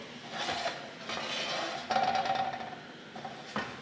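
A hot pan is lifted off a kitchen stove with an oven glove, giving a few metallic clanks and clinks of cookware against the hob, with one sharper scrape partway through and quiet kitchen background.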